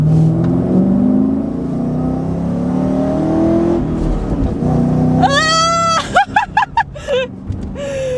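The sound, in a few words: V8 car engine revving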